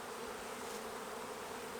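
Honey bees drone steadily around an open hive frame during queen rearing, a continuous close buzzing hum with no voices.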